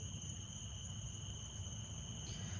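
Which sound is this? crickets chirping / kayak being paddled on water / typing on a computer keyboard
crickets chirping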